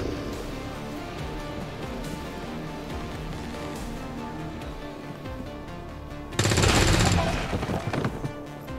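Gunfire in the video game XCOM 2: War of the Chosen, a loud burst of shots breaking out near the end over a busy game soundscape with music and effects.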